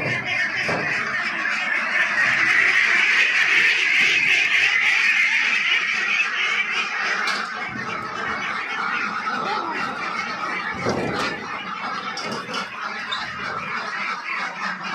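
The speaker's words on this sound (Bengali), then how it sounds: "এই হাঁসগুলো আমার বয়স হচ্ছে 41 দিন।" A flock of 41-day-old ducks on a duck farm keeps up a dense, continuous quacking chorus, loud and close, with no talk over it.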